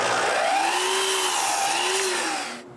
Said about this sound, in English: I begin by cutting some pieces of maple.